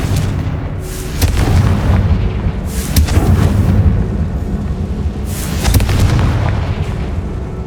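Confringo fire-spell explosions in the Hogwarts Legacy video game on PS5: three heavy booms, each with a rolling low rumble, land a second or two apart over a continuous dull background roar.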